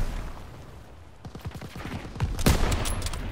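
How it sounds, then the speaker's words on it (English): Rapid gunfire in Call of Duty as a player shoots at ammo caches, a fast string of sharp shots that thickens into a louder volley near the end. "Daniel, shoot the ammo caches."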